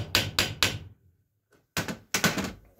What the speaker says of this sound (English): Just tap it lightly. And you'll hear it and feel it bottom out against that snap ring.